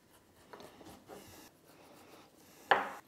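A pasta wheel cutter presses and rolls through ravioli dough, giving a few soft scraping strokes and ending with one sharper, louder rasp, with no voices.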